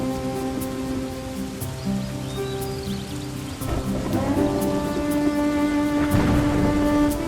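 Heavy rain pours in a village during a storm in an animated story about a poor farmer: a steady, dense hiss with a low rumble like thunder, layered under sustained musical tones that swell toward the end.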